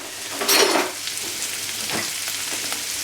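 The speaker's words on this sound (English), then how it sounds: "Okay, so the chorizo is cooking just here." Chorizo fries in a pan with a steady bright sizzle, a louder hiss as it is stirred near the start, then continuous close frying.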